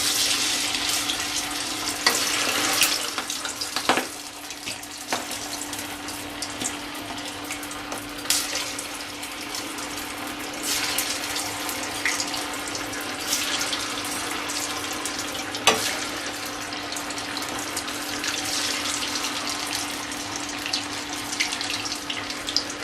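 Potato poha cutlets frying in hot oil over a low flame, a steady close hiss and sizzle with occasional soft clinks and crackles throughout.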